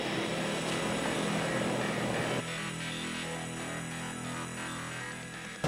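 Steady whirring drone of a Bell 407 helicopter near the volcanoes around Antigua, Guatemala, heavy and broadband at first, then dropping to a lower, even hum with faint rotor tones, close and alone.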